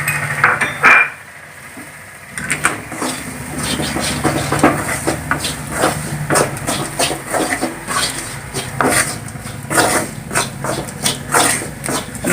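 Spoon scraping and clinking against a pan while bread upma with turmeric and Kashmiri chilli powder is stirred, repeated irregular metallic taps and scrapes at close range.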